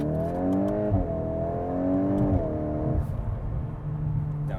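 A 2025 VW Golf R MK8.5 turbo engine blips and climbs on downshifts, rising revs in two quick surges before settling into a lower drone, heard from inside the cabin and loud without talk.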